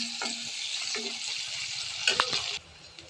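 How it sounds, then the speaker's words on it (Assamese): Onion frying in a pan during a village chicken dish, with a steady broad sizzle, a few soft stirring scrapes near the end, then the sizzle drops to a quieter hiss. "পিঁয়াজটো ভাজি লৈছোঁ"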